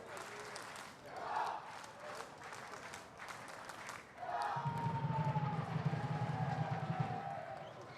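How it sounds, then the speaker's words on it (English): Myanmar fans at a Singapore versus Myanmar under-23 friendly football match, crowd noise swelling into sustained cheering and chanting in the second half, with a commentator's voice over it. "It's great to see the Myanmar fans out here"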